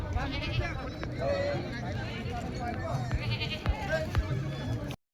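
Goats bleat repeatedly at a busy weekly goat market in Kalamnuri taluka, Hingoli district, with several calls near and farther off. People talk continuously over the bleating.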